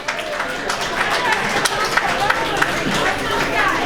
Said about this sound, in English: I think we should have a round of applause for Petra and Joe, who are the main people that put this event on.